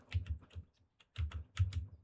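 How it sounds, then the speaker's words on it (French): Computer keyboard being typed on, with close, crisp key clacks in quick bursts, a brief pause, then another rapid flurry, no voices present. "Je suis en train de faire toutes mes touches de clavier."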